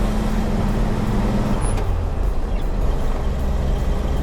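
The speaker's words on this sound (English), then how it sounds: "let's at least drive the truck down the road a little bit" A 1966 Toyota FJ40 Land Cruiser truck with a power steering conversion drives down the road, a steady low engine drone and rumble filling the cabin, with a brief low tone shift midway and no talking.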